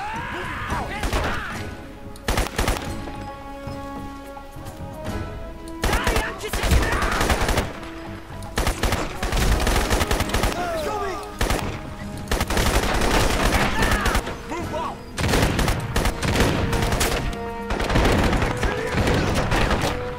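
Bursts of gunfire from a Crysis firefight, including shotgun blasts, crack repeatedly and loudly across the whole stretch, overlapping with clatter and impacts in a dense, chaotic barrage.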